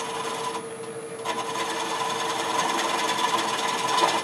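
Detail spindle gouge cutting a Bradford pear bowl on a lathe, a steady close scraping hiss over the lathe's constant whine, briefly easing near the start before resuming and building slightly.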